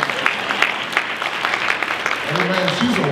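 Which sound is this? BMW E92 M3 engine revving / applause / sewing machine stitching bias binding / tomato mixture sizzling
applause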